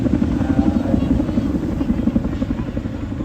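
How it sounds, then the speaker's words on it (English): A Chinook helicopter flying at an air festival, its heavy rotor thudding in a steady, fast beat with a rumbling drone, loud and continuous throughout. "The Chinook will give us a nod farewell"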